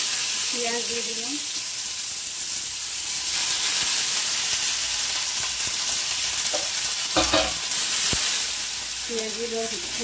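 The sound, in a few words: onions frying in a pan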